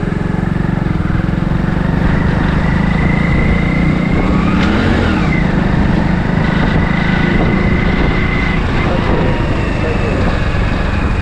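A red state transport bus, the 'lal pari', runs its engine in a village. It makes a loud, steady, broadband rumble that lasts the whole stretch without letting up.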